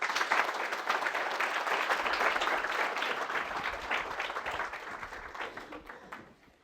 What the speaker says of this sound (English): I always wonder about the applause coming first.